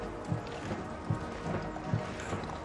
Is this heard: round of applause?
no